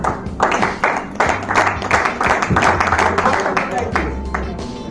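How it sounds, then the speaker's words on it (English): Guests at a BNI Aphrodite chapter anniversary celebration clap for the chapter winners, a loose burst of hand claps with uneven rhythm, fairly close, while a voice talks over it. "Let's give a huge round of applause for them"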